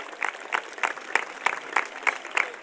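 At a Christmas lights switch-on event, the teachers and children of a music and dance school receive applause, with rhythmic unison clapping in a steady pulse of about three beats per second.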